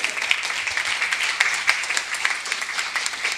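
An audience at a lecture claps in a steady, fairly quick stream of individual hand claps, moderately loud and sustained for several seconds with no talk over it.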